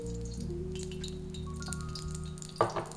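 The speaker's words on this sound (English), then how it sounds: "So now I'm going to start by frying our veggies. I'm going in with some sesame oil," Vegetables sizzle gently in sesame oil in a pan, a faint steady frying crackle with a brief clatter of stirring near the end.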